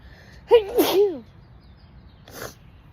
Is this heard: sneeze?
yes